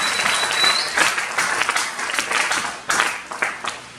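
A church congregation breaks into applause, a dense, near wash of many hands clapping at once, swelling and pulsing in waves over about four seconds.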